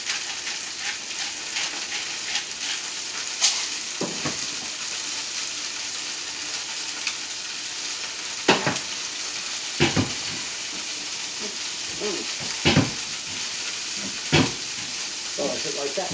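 Onions sizzling in a frying pan, seasoned with salt and pepper, a steady broadband crackle with scattered sharper pops and stirring clatters, close and continuous.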